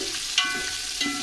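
Chopped coriander and mint frying in hot oil for a restaurant-style mutton yakhni pulao, a steady close sizzle with a couple of faint stirring scrapes over it.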